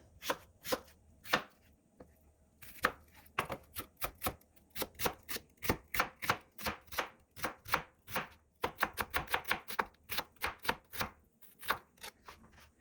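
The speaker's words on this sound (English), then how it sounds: "We've got some white onion that we'll mince." White onion minced with a knife on a cutting board: a long run of sharp, close chopping taps, irregular at first, then fast steady bursts with brief pauses, loud and clear, no talking.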